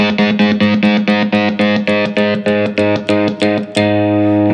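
Electric guitar chord from a song, strummed in a steady rhythm, cutting in and out repeatedly in short bursts via a toggle switch, loud and distorted, then ringing out sustained at the end.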